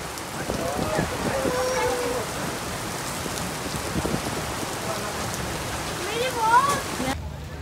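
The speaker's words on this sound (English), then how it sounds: "So it's all raining and..." Steady rain falls outdoors by a beach in Singapore, a continuous broad hiss of drops that runs throughout, with someone speaking over it at moderate level.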